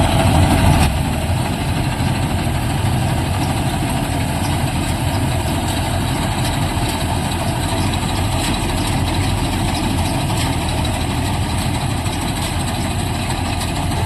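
A tractor engine idles steadily and loudly throughout, a constant low rumble with no pauses or speech.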